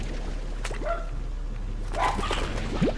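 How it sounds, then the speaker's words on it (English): A dog upstairs gives a few short, muffled yips and barks that are spaced out and sound somewhat distant, heard over a low steady background hum. "I can hear the dog barking upstairs"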